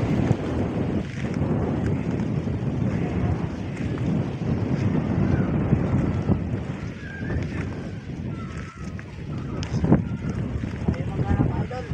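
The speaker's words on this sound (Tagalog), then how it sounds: "Sobrang hangin. Lakas ng hangin mga idol." Strong wind blows outdoors along a shore, a loud continuous rumbling buffet across the microphone with gusty surges, while people talk underneath.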